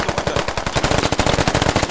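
Rapid automatic gunfire in the military shooter game Squad, sustained bursts of dense, punchy shots laying suppressing fire on a window, loud and close without pause for the whole stretch.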